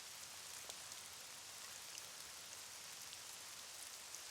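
Rain falls in a French animated cartoon, a faint, even hiss of drops that holds steady from start to finish with no voices.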